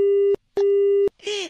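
A phone line gives a disconnected tone: two loud, steady beeps separated by brief silences, heard close as if through the handset, followed by a moment of voice at the end.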